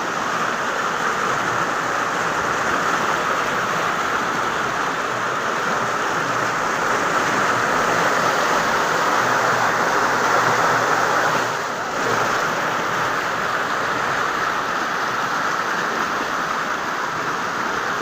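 Fast water rushing from a dam after its gates are opened, a steady, loud broadband roar that continues without a break, with a brief dip near the end and no voices.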